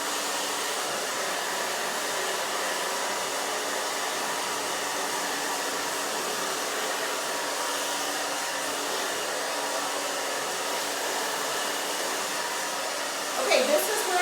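A hair dryer blows steadily and evenly while hair is brushed dry on a pixie cut, a continuous close whoosh broken only by a brief clatter at the very end.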